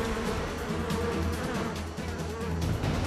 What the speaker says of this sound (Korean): 말벌의 체온을 치사 온도까지 높이기 위해 말벌을 공처럼 감싸는 수십 마리의 꿀벌들